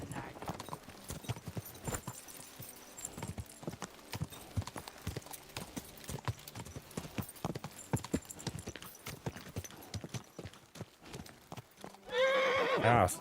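Horse hooves clip-clop steadily at a walk in Kingdom Come: Deliverance II, a long run of close hoofbeats, then a loud whinny bursts out near the end.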